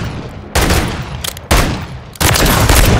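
Rapid automatic gunfire in Call of Duty on the Shipment map, three loud bursts of dense shooting separated by short gaps, close and harsh.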